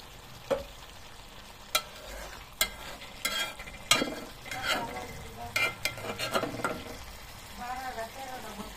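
Pumpkin bhaji frying in a pan, a soft sizzle under repeated clacks and scrapes of a spatula, with quick irregular stirring bursts close by.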